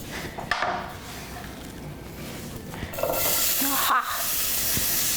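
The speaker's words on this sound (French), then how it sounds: "Alors, l'huile est chaude, j'ai l'oignon, j'ai l'ail, je vais le mettre tout de suite." Chopped onion and garlic tipped into hot oil, setting off a loud, steady hiss that swells after a few seconds and keeps sizzling, with a few knocks and stirring sounds mixed in.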